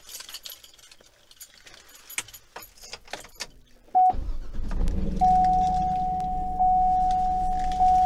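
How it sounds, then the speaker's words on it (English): A car's keys jingle and clink in the ignition, then a chime sounds and the engine catches and runs with a steady low hum under repeated warning beeps. "Let's go ahead and turn the car on real quick."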